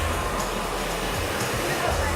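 A handheld hair dryer runs steadily and fairly close as hair is grabbed and dried downward while styling wedding hair, a continuous broadband whoosh with no pauses.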